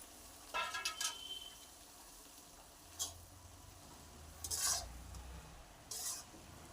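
Pieces of fish are stirred into a cabbage curry in a pan, heard as a few short, quiet scraping strokes of a spoon against the pan. The strokes are spaced by pauses over a soft background, with no voices.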